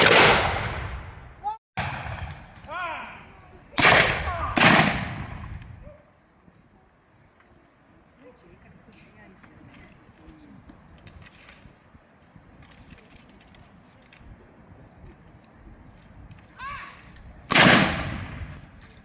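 Black-powder muskets fire in volleys at a fort weapons display, several sharp, loud cracks with echoing tails, a long quieter stretch of crowd and ambient noise, then one more close blast; a voice is heard briefly.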